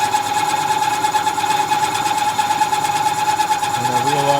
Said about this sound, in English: Spring pass on boring out the cylinder. I switched to a different boring head,